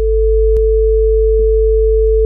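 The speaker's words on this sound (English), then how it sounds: "Here it just got two sine waves" Two steady sine tones from the Arguments synth plugin, a pure low hum held constant with a brief click near the start and a faint second tone underneath.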